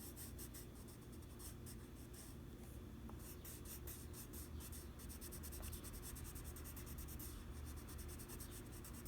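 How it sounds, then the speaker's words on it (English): Steady pencil strokes rub and scratch across textured drawing paper in quick repeated shading motions, close and quiet, with no talking over it. "create a rounded effect by doing some half circles with my pencil"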